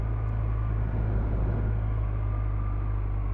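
BMW R1250R motorcycle pulling hard under acceleration, with gear changes made by a quick shifter, heard as a steady, continuous engine drone and low rumble from close by, with no voices.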